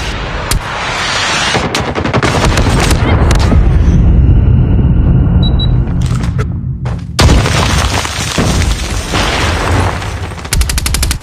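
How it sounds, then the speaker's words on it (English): Booming explosions and rapid gunfire from a predator missile strike in a Call of Duty Mobile hardpoint multiplayer match, loud and dense throughout, with a brief lull in the middle before heavy firing resumes. "Hostile predator missile inbound."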